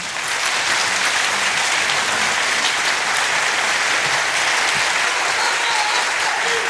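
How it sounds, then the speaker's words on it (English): A large audience gives a standing round of applause, loud and continuous dense clapping that fills the whole stretch without a break. "let's give the residents of Liberty one standing round of applause"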